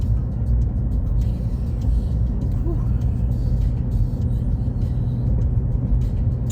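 Steady low road rumble from a car driving a long, hilly stretch toward downtown in Montana's Bitterroot Valley, continuous and even throughout with no voices.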